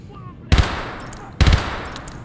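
Two loud, sharp bursts of gunfire from a weapon in the shooter game Escape from Tarkov, each a heavy report with a short decaying tail, spaced about a second apart.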